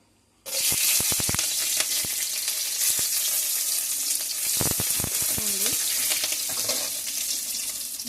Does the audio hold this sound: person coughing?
no